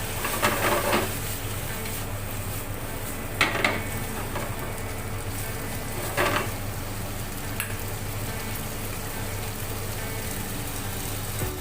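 Spaghetti tossed and stirred in a hot pan with white wine, a continuous bright sizzle with a few sharper scraping clatters of utensil against pan, close and alone.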